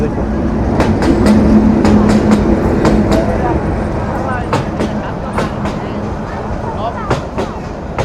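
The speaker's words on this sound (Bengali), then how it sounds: "বাজারের পাশ দিয়েই ট্রেন যাচ্ছে লোকাল ট্রেন ময়মনসিংহ থেকে ঢাকা যাবে এই ট্রেনটি" Local passenger train from Mymensingh bound for Dhaka passing beside a rural village market, a steady close rumble with clicking wheel beats running the whole time, mixed with market chatter and a voice talking over it.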